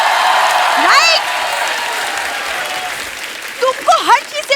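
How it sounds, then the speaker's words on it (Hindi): Steady applause from a comedy talk-show studio audience, a thick wash of clapping that swells at the start and keeps going at a slightly lower level, with a voice talking over it toward the end. "देखो मैं बोलूंगी ये तालियां बजती रहेंगी, नहीं रुकने वाली।"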